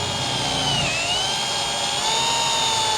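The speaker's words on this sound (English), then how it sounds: "we're going to drill into the trailer so it hits the stop" A power drill with a 3/16 bit bores a pilot hole into a trailer wall up to a depth stop, whining steadily and loudly up close for the whole stretch, its pitch dipping slightly under load.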